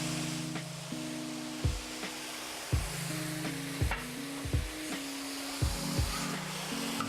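Cooked beef for a Philly cheesesteak sizzling in a pan as Worcestershire sauce is added, with a steady loud sizzle broken by repeated scraping stirring strokes of a utensil; no one talks.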